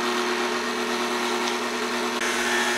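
Electric mixer beating peanut butter icing, a steady high-pitched motor whine that holds constant throughout, loud and close, with a slight pitch change near the end.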